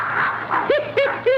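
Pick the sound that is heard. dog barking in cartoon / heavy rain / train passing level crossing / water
dog barking in cartoon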